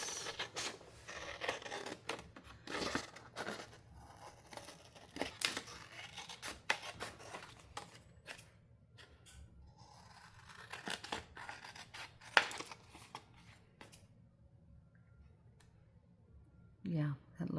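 Scissors snip repeatedly through oversized paper booklets, a run of sharp close cuts and paper rustles with pauses between, followed by a few more scattered snips.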